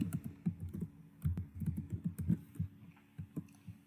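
Rapid typing on a computer keyboard while writing Python turtle code, a close, steady run of soft key clicks with brief pauses, no voices.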